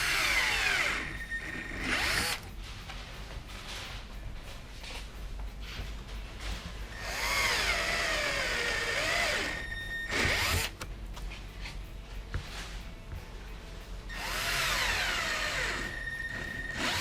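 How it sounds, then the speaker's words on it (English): A power drill whirs in several short bursts drilling out holes in a Mustang for rivet nuts, rising and falling in pitch as it bites in, with quieter pauses and handling between. "We'll use these, or that bit, to drill out the 2 outside holes"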